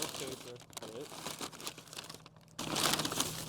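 Paper packing crinkled and crumpled while unpacking a CTS Turbo intake kit for an MK8 GTI, with intermittent rustling under quiet talk, then a louder, sustained burst of crumpling toward the end.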